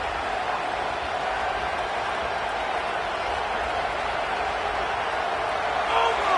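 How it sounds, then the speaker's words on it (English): A football stadium crowd roars in a steady, dense wash of noise as the offense lines up, with a broadcast commentator talking over it. "This crowd trying to make life miserable for this offense."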